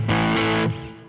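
A single distorted chord on an Emerald Virtuo electric guitar's neck pickup, with a warm, rounded tone, rings out loudly, then decays into a fading sustain.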